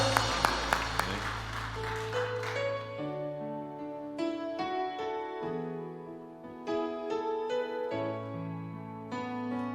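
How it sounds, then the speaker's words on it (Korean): A church congregation at a New Year prayer meeting claps in praise, a dense burst of applause over a low sustained tone for a couple of seconds, then fading as held keyboard or organ chords carry on alone. "우리 주님께 감사와 영광의 박수 올려드리겠습니다"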